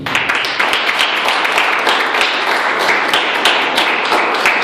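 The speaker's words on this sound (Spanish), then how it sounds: "Démosle un aplauso a Dios." A church youth congregation claps steadily and densely for several seconds, a sustained burst of applause filling the room.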